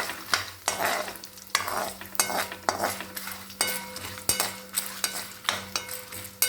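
Chillies and spices fry in a pan for pulikaichal, with a steady sizzle under repeated scraping and clinking stirs of a metal spoon against the pan.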